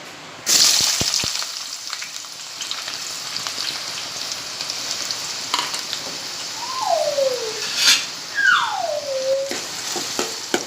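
Onions frying in hot oil in a pot, a loud continuous sizzle that starts abruptly and crackles steadily, with a few brief higher squeaky scrapes over it.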